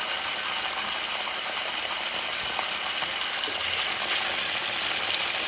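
A thin bison flat iron steak sears in a hot pan, giving a steady, dense crackling sizzle with faint pops, constant and fairly loud without talk.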